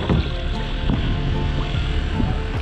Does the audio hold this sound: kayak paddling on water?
yes